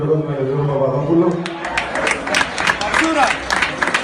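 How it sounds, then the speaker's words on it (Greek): After a speaker talks briefly, applause for Mr. Papadopoulos breaks out as quick, close claps that keep going to the end. "θέλω να δώσω ένα πολύ δυνατό χειροκρότημα για τον κύριο Παπαδόπουλο"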